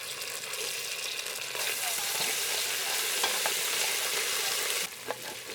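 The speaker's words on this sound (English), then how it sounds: "And cook the garlic until the raw smell of the garlic is gone." Garlic fries steadily in a pan for Ambur chicken biryani, a continuous close, fairly loud sizzle with occasional stirring scrapes and no talking.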